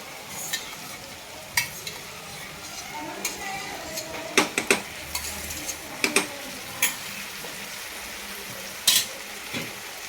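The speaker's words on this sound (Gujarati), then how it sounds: "હવે એની અંદર એડ કરીશું આપણે થોડું દહીં." Yogurt going into crumbled millet rotla in a hot pan, with soft sizzling and scattered sharp clinks of a spoon against the pan, close and fairly quiet.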